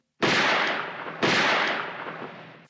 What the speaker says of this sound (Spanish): suenan unos disparos procedentes del oscuro callejón que da a la única calle importante del pueblo.